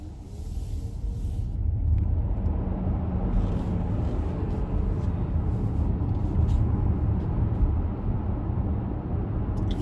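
Kia EV9 electric SUV on the road, heard from inside as a steady low rumble of road and tire noise with faint higher hiss, continuous and fairly loud throughout.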